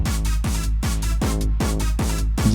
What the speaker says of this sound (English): the sort of big, raw, early hardcore kick coming through